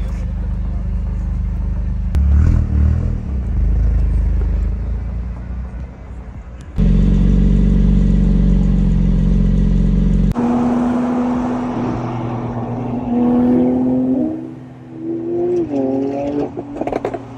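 A Toyota GR Corolla drives past at a cars and coffee meet, its engine rumbling loud and close, then revving in rising, stepped bursts toward the end.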